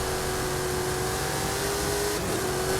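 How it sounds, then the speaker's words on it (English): A car engine in a racing video game holds a steady, loud drone with a sustained tone as it accelerates, continuous throughout with no talk. "Now I'm accelerating."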